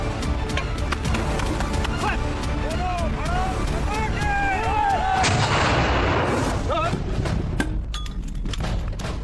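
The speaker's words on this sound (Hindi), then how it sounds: "यहाँ फायरिंग करती हैं 81 mortar, MMG, 51 mortar, AGL, rocket launchers और राइफल ग्रेनेड्स की" Mortars, machine guns and rocket launchers are fired on a BSF border firing range, booming and crackling continuously with heavy low rumble, while people talk over the gunfire.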